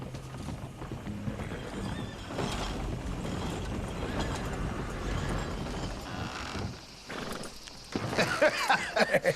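A horse in the Red Dead Redemption 2 video game, hooves clip-clopping at a steady walk under a continuous background, then a sharp whinny and louder hoof and harness sounds near the end.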